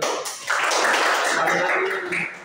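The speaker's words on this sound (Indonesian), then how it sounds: "Udah, tepuk tangan dulu." Children in a classroom clap their hands together in a sustained burst of applause, dense and fairly loud, fading slightly near the end.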